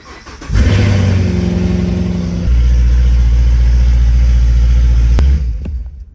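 A rebuilt Corvette's engine fires up and roars loudly up close, holding a deep steady rumble that steps down in pitch midway before a sharp click and a fade as the revs drop.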